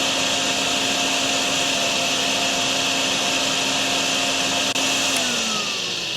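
Vacuum pump sucking water in the Drain Sim video game: a loud, steady motor whine with constant droning tones that shifts pitch slightly near the end.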